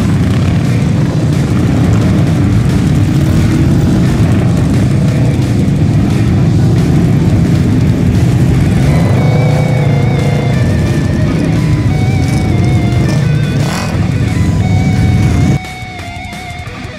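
Several UTVs roll through a slow parade lap at a cross-country race, a loud continuous engine drone with shifting revs close by, cutting off abruptly near the end.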